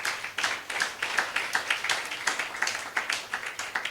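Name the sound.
congregation clapping hands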